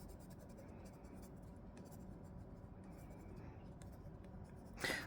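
A dark pencil scratches steadily across paper while drawing a strawberry, with continuous close shading strokes and a short louder scrape at the end.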